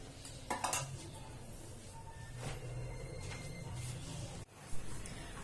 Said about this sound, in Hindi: हम इसको कढ़ी को ऐसे ही चलाते रहेंगे जब तक इसमें उबाल नहीं आ जाता।